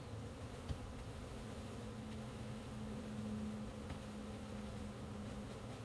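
Package of honey bees being shaken and dumped out, giving a steady, faint swarm drone with a continuous low hum and a few soft knocks.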